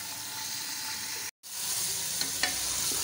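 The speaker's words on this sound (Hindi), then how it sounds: "यहाँ पर हम लोग अपनी चिकन को भून रहे हैं" Chicken frying in cooking oil with chopped onion hisses in a steady sizzle, cut by a brief silent gap, then resumes with a couple of small clicks from stirring.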